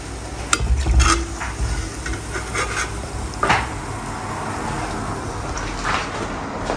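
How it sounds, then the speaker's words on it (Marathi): Wheat shankarpali sweets frying in oil for Diwali, a steady soft sizzle broken by occasional clinks and stirring scrapes of a utensil against the pan. "शेवटचं आहे ते मी आता फ्राय करते"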